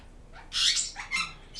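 Pet budgies in an indoor bird room give a couple of short, harsh squawks, close and moderately loud, with brief chirpy calls between them.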